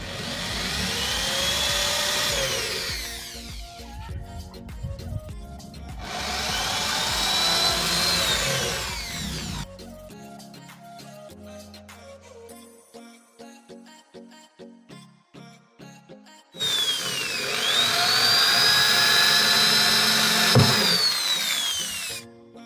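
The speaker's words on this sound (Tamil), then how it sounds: "அடுத்து பார்த்திங்கன்னா ஸ்க்ரூ ஏற்றுறதுக்கு ட்ரில் பண்ணிடலாம்." Power drill boring screw holes in a 12-inch subwoofer enclosure: three long, loud, close whirring bursts with rising and falling pitch, separated by a stretch of rapid ticking and clicking.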